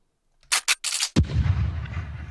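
A few sharp bursts followed by a single heavy, booming cannon shot that rolls and rumbles on as it fades, loud and close.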